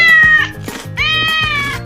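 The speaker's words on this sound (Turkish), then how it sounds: "Yine bir kedi." A street cat in a park meows twice in close succession, loud and near, each call drawn out with a clear tonal whine.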